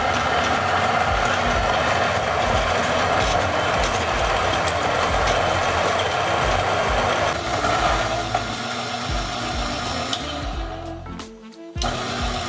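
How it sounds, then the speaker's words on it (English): A Breville grinder grinding an 18-gram dose of Starbucks Reserve Hawaii Ka'u coffee, a steady, close, loud mechanical whir that runs for about eleven seconds before cutting off abruptly, followed by a brief restart. "Grind our 18 grams."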